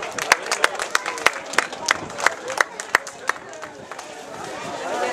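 A crowd applauds an award winner at a podium ceremony for a women's senior territorial championship title, with sharp individual claps ringing out over steady clapping and voices talking throughout.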